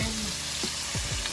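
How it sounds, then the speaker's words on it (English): Alfredo sauce hits a hot pan with a steady sizzle and soft frying hiss, a few brief scraping sweeps over it, continuous and close, with no talk. "There she goes, putting the Alfredo sauce in"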